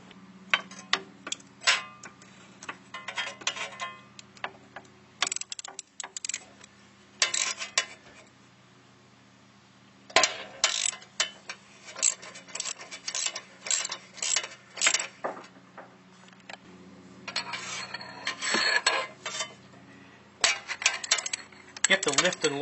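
Metal clicking and clinking of a ratchet working the E14 inverted-Torx bolts that hold an axle shaft to a differential, in rapid irregular bursts with brief pauses, fairly close.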